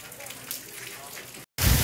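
Heavy rain falls in a steady, hissing wash of drops, broken by a brief silent gap before a louder, denser burst of downpour.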